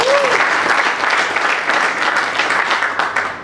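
A crowd at an election meeting in Kintambo, Kinshasa breaks into dense, steady applause, many hands clapping together at close range for a few seconds.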